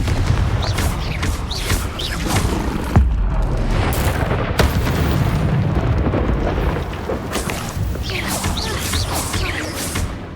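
Confringo blasting-spell explosions in Hogwarts Legacy erupt as heavy booming blasts amid dense, continuous combat noise, loud and close, with a sharp crack near the middle.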